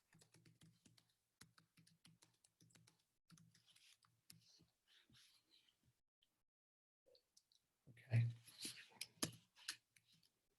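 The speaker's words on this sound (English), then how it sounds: "I'm impressed with your typing speed, Matt." Rapid clicking of computer keyboard keys in uneven bursts, quiet and close, with a louder flurry near the end.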